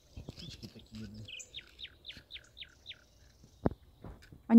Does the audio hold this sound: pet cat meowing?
no